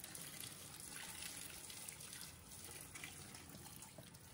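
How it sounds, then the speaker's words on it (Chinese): Bananas are rinsed under running tap water to wash off leftover baking soda, giving a steady, even hiss of flowing water at the sink throughout, with no talking. "用流动清水反复冲洗，彻底冲净残留的小苏打和分解后的物质"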